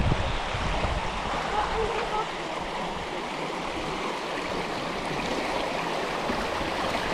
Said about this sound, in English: the sluice isn't running real good